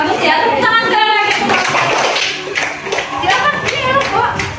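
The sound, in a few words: applause, clapping hands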